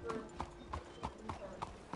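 Horse hooves clip-clop at a steady trotting rhythm in the video game Red Dead, a regular series of about six sharp, moderately close strikes.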